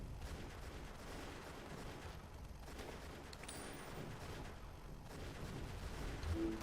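Machine gunner tower firing in the tower defense game Planetary TD, a dense, continuous rattle of gunfire that stays fairly quiet and uniform throughout, with no talking over it.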